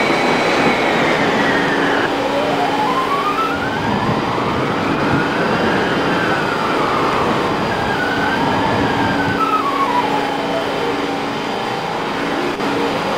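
A train in the Roblox game Stepford County Railway rumbles steadily throughout, its loud running drone joined by sweeping rising and falling tonal whines and a horn-like tone near the start, with no talking.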